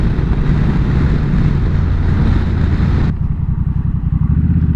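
A Honda Rebel 1100 DCT motorcycle accelerates toward 60 with its dual-clutch transmission shifting gears by itself, engine drone heavily mixed with wind rush that drops away abruptly near the end.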